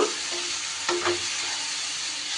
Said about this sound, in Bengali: যেহেতু এখানে গুঁড়ো মশলা দেয়া আছে তাই খুব সামান্য আমি একটু জল অ্যাড করে দিচ্ছি মশলাটা যাতে পুড়ে না যায়